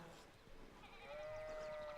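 Sheep bleat in the medieval adventure game Pentiment, a soft wavering cry rising over faint background murmur and lasting about a second toward the end, fairly quiet and close.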